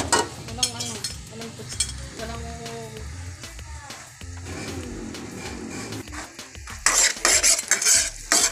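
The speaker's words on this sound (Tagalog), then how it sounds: "Nagluluto ako ng ginisang dahon ng kalabasa" Squash leaves sautéed with grilled milkfish in a pan, a utensil stirring and scraping against the metal over a steady sizzle, with clinks and a louder burst of frying near the end, and a voice speaking in between.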